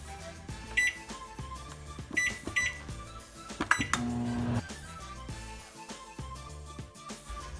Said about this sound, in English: Now we're going to put this in the microwave for 1 minute.